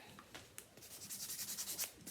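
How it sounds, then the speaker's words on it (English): A nail buffer rubs back and forth over a polygel nail, giving soft rhythmic scratchy strokes at close range, quiet with no talking. "Use my buffer."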